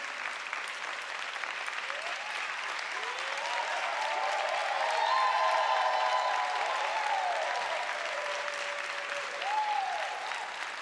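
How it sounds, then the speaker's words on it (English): A forum audience applauds visiting friends and the Swedish Gospel Choir, a long continuous wave of clapping that swells in the middle, with scattered cheers and whoops rising above it. "give them a loving round of applause"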